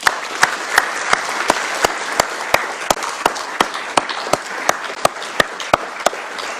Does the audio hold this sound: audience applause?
yes